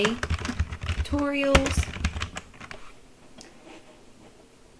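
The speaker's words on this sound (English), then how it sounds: "I'm going to type in" Keys tapped on a computer keyboard in a quick, uneven burst of close clicks that thins out and stops, with a voice briefly speaking over the start.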